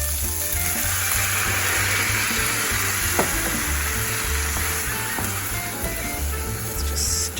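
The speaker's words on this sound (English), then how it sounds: "big sizzle." Tomatoes hit a hot pan for a meatless Bolognese sauce, giving a loud, steady sizzle and crackle with faint stirring scrapes, close up and without talk.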